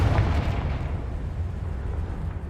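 In Hogwarts Legacy, a Confringo fire spell explodes with a heavy, low boom that rumbles and slowly fades, loud and alone without speech.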